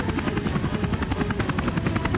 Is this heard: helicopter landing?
yes